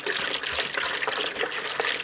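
Glacial water pours in a steady, bright, splashing stream into a container, continuous and close with no voices over it.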